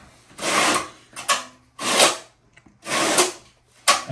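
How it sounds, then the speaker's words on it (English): A half-inch trowel spreads and scrapes thinset tile mortar across a shower wall in five rhythmic rasping strokes, close and clear with short pauses between passes. "And then just trowel it out."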